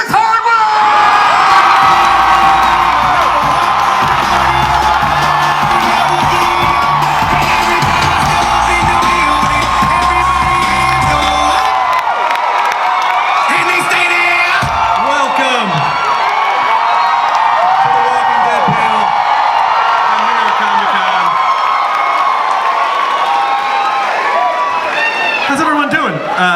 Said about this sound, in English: Clap and scream and get up on your feet for the one and only Chris Hardwick!